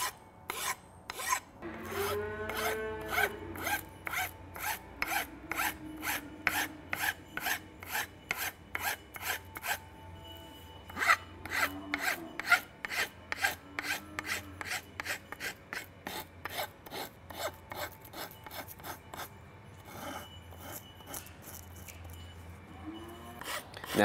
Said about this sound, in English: So just to start, I'm gonna put my file on there. I'm just gonna start pushing down.